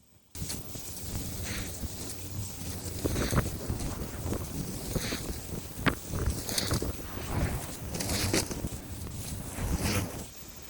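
A Kobalt 40V battery push lawnmower runs outdoors as a steady, close whirring hum with wind buffeting the microphone, plus brief rustling bursts as grass is cut.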